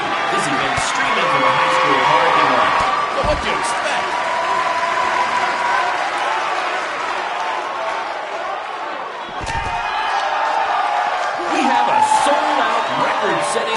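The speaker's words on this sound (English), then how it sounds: "record-setting crowd here for BCW tonight." A large in-game wrestling arena crowd in WWE 2K19 roars steadily throughout, dense cheering and applause with a few sharp thumps, loud and continuous from start to finish.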